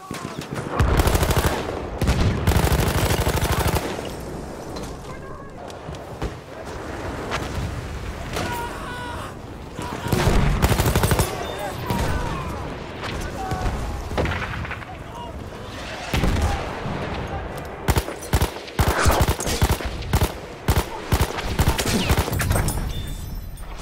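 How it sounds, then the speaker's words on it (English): In a Battlefield 1 session on PS4, an SMG 08/18 fires in short tap bursts amid a dense, loud battlefield mix of gunfire and explosions that runs continuously throughout the scene. "I'm just tap firing to get that guy."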